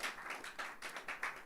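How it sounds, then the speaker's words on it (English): Audience clapping at a spoken word event, heard as a short run of distinct, fairly rhythmic claps over a second and a half, moderately close and without voices. "Let's keep clapping until he comes."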